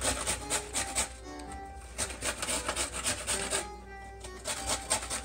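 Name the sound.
carrot being grated on a box grater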